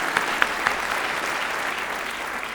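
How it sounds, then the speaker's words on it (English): Applause at a human rights prize ceremony in Los Angeles, a steady, moderately loud wash of clapping from the audience, with a few sharper claps standing out near the start. "Let's give her a round of applause as well."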